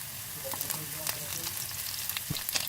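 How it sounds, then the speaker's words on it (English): Onions sauté in a pan over a low to medium flame with a close, steady sizzle broken by brief crackles and a few scraping stirs. "Sauté onions, stirring often until they become translucent."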